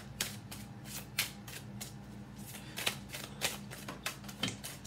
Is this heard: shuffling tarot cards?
yes